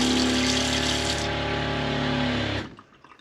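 A Franklin CX22 caravan water pump running with water gushing from the tap after repair and bleeding of the system, a steady close rushing hum that cuts off near the end, leaving quiet.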